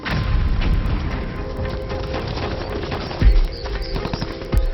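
Artillery shelling and sniper fire in a conflict zone, heard as scattered distant booms and sharp cracks over a steady rough background, with a couple of heavier thumps.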